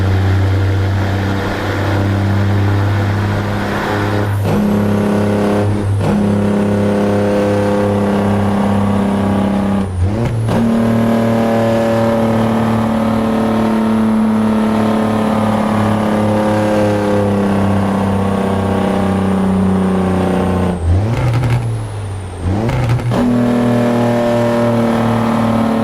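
A heavy truck in American Truck Simulator drones with a deep, loud engine tone that holds steady and shifts pitch through several gear changes, with brief dips and rattles between them and no voices.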